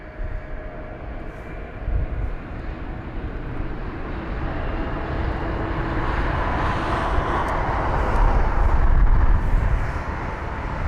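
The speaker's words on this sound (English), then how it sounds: "And there's the Austrian 320 Neo already rotating." Austrian Airlines Airbus A320neo rotating and climbing away on takeoff at London Heathrow, a broad jet-engine roar heard from a distance that slowly swells louder toward the end.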